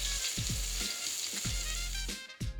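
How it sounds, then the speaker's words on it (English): Steak searing in a hot pan: a dense, continuous sizzle close up, with a low rumble and a few quick thumps and clatters of the pan, no voices. "Once our steak is beautifully seared"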